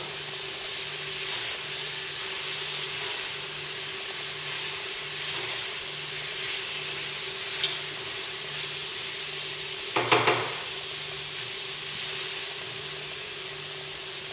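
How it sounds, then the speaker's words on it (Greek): A seasoned Greek fish soup base, kakavia, sizzles in a pot while being stirred, a long even hiss with a low hum beneath and a brief louder scrape near the end. "Ανακατεύουμε καλά."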